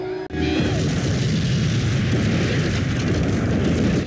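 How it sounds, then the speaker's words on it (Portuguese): A bomb explodes in the TV drama Lost, a loud sustained boom with heavy low rumble that fills the whole stretch after a brief sharp onset, with no talk over it. "Ela vai tacar fogo? Uma bomba."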